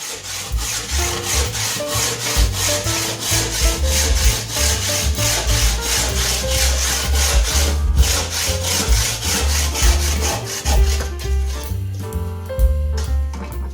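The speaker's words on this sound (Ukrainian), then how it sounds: "я болгарку не використовую і ріжу ножовкою з победитовими напайками" A carbide-tipped hand saw cuts an aerated concrete block with loud, steady, rhythmic rasping strokes, close up and continuous throughout with no talk.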